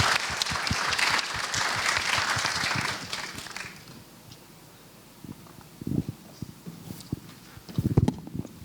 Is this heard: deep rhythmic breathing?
no